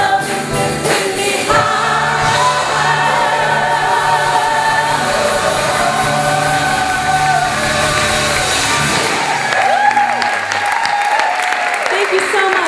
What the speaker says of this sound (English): let's have a round of applause for the choir today, this morning, and for the band.